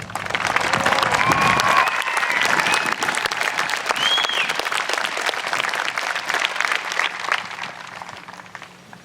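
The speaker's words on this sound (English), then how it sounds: "Please join me as we honor this group with a round of applause" A crowd at a high school graduation ceremony breaks into long, full applause with some cheering and whistles early on, the dense clapping gradually thinning toward the end.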